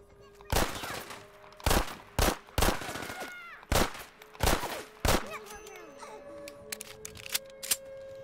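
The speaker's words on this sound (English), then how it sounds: "I wonder if that's how a Glock really sounds." Simulated Glock pistol gunfire in the video game Fallout: about seven sharp, loud single shots in an irregular rhythm, each with a short ringing tail, followed by quieter clicks and faint clatter.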